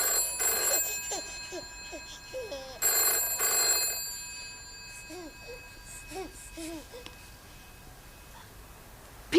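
An old landline telephone in a 1970s British drama rings in two loud bursts a couple of seconds apart. Quieter, muffled ringing and faint indoor sounds follow, and no voices are heard.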